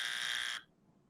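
A trivia game show buzzer from The Dozen gives one loud, steady electronic buzz lasting about half a second, then cuts off sharply into near silence.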